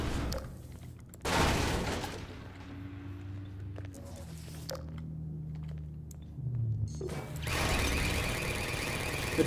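Automated sentry turrets in Half-Life 2 fire in bursts of rapid gunshots, loud and close, with squealing mechanical tones and a voice talking between the volleys.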